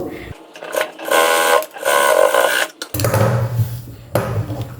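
A sewing machine runs a top stitch on a half-shoulder blouse in short bursts of stitching, close and fairly loud, broken by pauses and someone speaking between runs.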